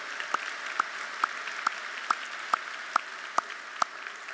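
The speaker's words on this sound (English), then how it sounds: "A big round of applause for them." Audience applause at an athletics hall of fame gala forms a steady, distant wash, with evenly spaced sharp claps standing out above it.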